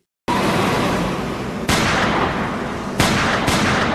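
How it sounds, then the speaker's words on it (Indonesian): Loud gunfire in a crime-thriller film scene about gangsters and police, several sharp shots cracking out over a dense, rumbling soundtrack, with blasts at roughly irregular intervals. "Lau pun shock, dan pada akhirnya Lau memilih untuk menembak si bawahannya ini"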